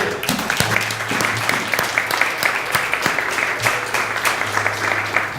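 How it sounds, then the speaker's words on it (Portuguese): A church congregation applauds with steady, dense clapping that fills the space, loud and continuous with no voices over it. "Vamos aplaudir o Senhor?"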